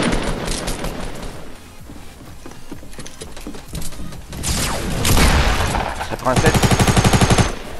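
Gunfire in the Fortnite video game, shots crackling through dense game sounds under talk, swelling near the end into a fast, loud run of rapid repeated shots.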